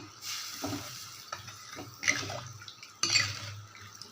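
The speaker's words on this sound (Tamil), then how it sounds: "இப்போ இதில் நம்ம கரைச்சி வச்சுருக்க புளி தண்ணியை ஊற்றிக்கலாம்" Tamarind water poured into a hot pan splashes and sizzles, with bursts of hissing and stirring clatter, close by and without talk.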